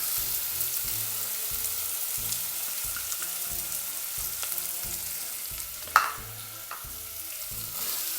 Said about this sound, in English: our sugar is just actually starting to get a little bit crispy in the bottom of the pan